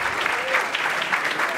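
Audience clapping steadily at a Brazilian open-knowledge network's tenth-anniversary event, a dense, even wash of applause that runs unbroken from start to finish with no voices above it.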